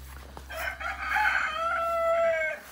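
A rooster crows once, a drawn-out call close by, among farm chickens being fed banana peels in a quiet yard, with no talking.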